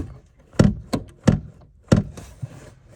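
Door of a 1982 Chevy C10 short-bed truck with a frozen cable, four sharp metallic thunks and a fainter fifth as it is worked or knocked, close and spaced roughly every half second.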